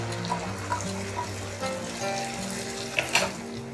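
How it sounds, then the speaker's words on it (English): Spinach puree going into a pan of softened tomatoes, with a steady low sizzle and frying hiss and a couple of brief wet splashes and stirring clinks, close up and without talk. "Now we'll add in the spinach puree to this mix."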